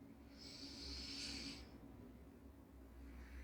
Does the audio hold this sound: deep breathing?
yes